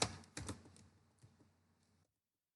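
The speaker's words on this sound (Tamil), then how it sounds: "டைப் பண்ணிட்டே வரேன் இந்த மாதிரி." Keystrokes on a computer keyboard while a command is typed into a Linux terminal: a few quick clustered taps near the start, then sparser, lighter clicks fading out after about two seconds, close and fairly quiet with no talk.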